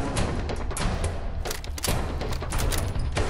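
Gunfire from a new weapon in Fallout 4 rattles in quick, loud bursts, with heavy thuds packed closely together and the shots running almost continuously.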